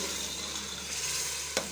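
Potatoes and spinach sizzling in an oiled pan while being stirred, a steady close hiss with soft scraping and one sharp utensil tap near the end, no one speaking.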